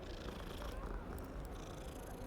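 An orange cat purring in Hogwarts Legacy: a soft, continuous low rumble, quiet and steady throughout, with no talking.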